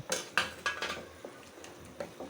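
Fish dropped into a pan of gently melting cabbage on a home stove, heard as a few close clattering knocks and scrapes of utensils against cookware, with faint softer taps trailing off.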